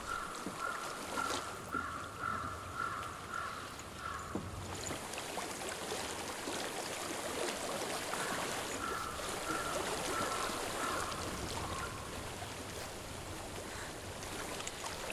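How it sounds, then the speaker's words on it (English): A flowing stream in the video game Hellblade: Senua's Sacrifice gives a steady, soft rushing wash of water, continuous and fairly quiet, with faint tonal ambience layered over it and no speech. "I hear water."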